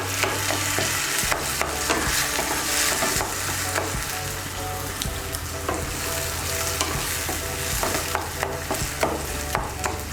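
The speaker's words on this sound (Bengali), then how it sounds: "বেগুন পোড়াটাকে মিশিয়ে নেব তেলের সঙ্গে ভালো করে।" Roasted eggplant is mixed with oil in a pan for bhorta, a close, steady sizzle with continuous scraping and tapping strokes of the spoon against the pan, with no talking.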